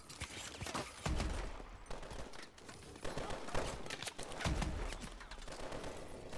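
Rapid bursts of gunfire in Call of Duty: Advanced Warfare crackle in quick succession, with heavier thuds mixed in, fairly loud and continuous throughout.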